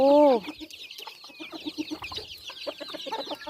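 Chickens cluck in quick, scattered bursts nearby, opening with a brief louder squawk, then steady low clucking continues throughout.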